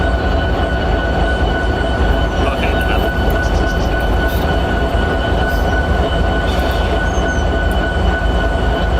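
A train rolls along a railroad track on the Southline District, a loud, steady rumble of wheels with faint squeals and clatter, sustained close by throughout.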